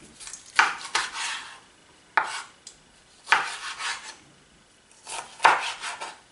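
Knife cutting through roasted peppers and onion on a board, several separate crisp slicing strokes with quiet gaps between them, close and fairly clear with no talking.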